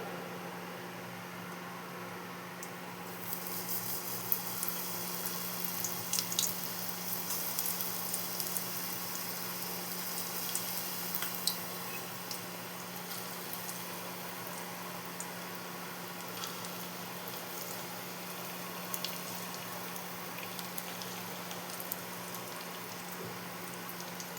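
Continuous soft sizzling and crackling of spinach pakoras frying in hot oil, steady and fairly quiet throughout, with no talking.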